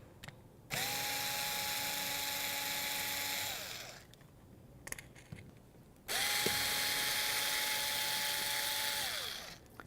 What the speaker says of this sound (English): Now that we have all 8 of the back panel screws undone, the back panel will separate.